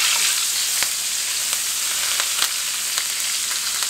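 Hot butter and fat spit and sizzle in a pan as a big spoon bastes with thyme, a dense continuous hiss with occasional sharper pops, close and steady.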